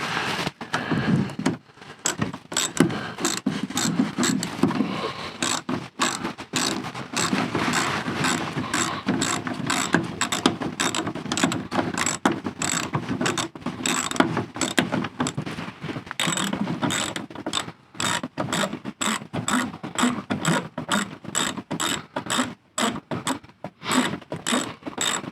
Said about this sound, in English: I'm going to get that screw in.